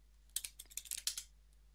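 A quick burst of about a dozen computer keyboard keystrokes entering commands in Kali Linux, crisp close clicks in an irregular rhythm over a low steady hum, no talk.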